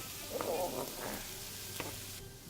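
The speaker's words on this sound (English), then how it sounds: "It's supposed to go until the onions start to look translucent." Chopped onions fry in fatty pork fat for boudin noir, giving a soft, steady sizzle with a couple of brief utensil scrapes, quiet and close.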